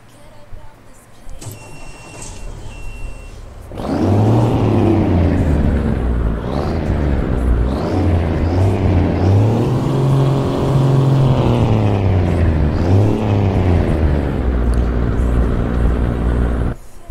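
A Mercedes-Benz Axor truck engine from a Euro Truck Simulator 2 sound mod cranks over and starts, then settles into a loud, steady diesel rumble that rises and falls slightly as it revs, heard alone and close.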